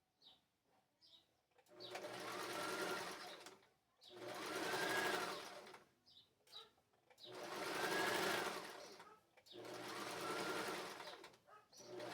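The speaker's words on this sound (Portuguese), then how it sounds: "Vou passar a costura novamente aqui. Pelo lado avesso agora." A domestic sewing machine stitches a seam on the wrong side of children's unisex shorts with elastic legs, running in four long steady bursts separated by short pauses.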